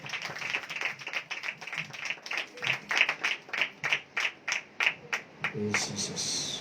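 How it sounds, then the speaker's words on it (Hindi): Church congregation clapping in praise to God, a steady rhythmic beat of about two to three claps per second, many hands together, moderately close, ending with a brief burst of voices. "आए खुदा के लिए जोरदार तालियां बजाएंगे"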